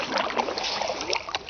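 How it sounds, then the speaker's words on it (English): Kayak paddling on a wilderness lake in Canada, with soft water splashes and drips from the paddle strokes in an irregular rhythm, close and moderately quiet, with no talking. "Here I am kayaking in Canada in a wilderness."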